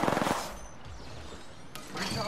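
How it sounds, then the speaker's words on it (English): A fast burst of automatic gunfire crackles in Apex Legends, loud at the start and then fading into quieter game noise with a faint hiss. "Getting shot at."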